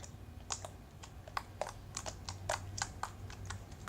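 Glittery slime squeezed by hand gives a quick run of small, sharp clicks and pops at an uneven rhythm, close but faint over a low background hum.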